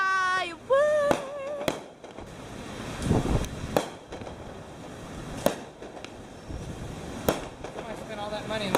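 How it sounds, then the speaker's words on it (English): Fireworks bursting at a beach at night, with several sharp pops and booms spread across the scene at middling distance, while people chat nearby and a few whistling rockets rise at the start. "Fireworks."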